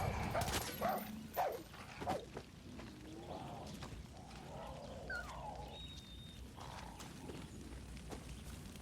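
A dog in the Far Cry 6 video game, snarling and barking in short bursts among clanking in-game mechanical and wildlife effects, fairly close over a steady ambient bed.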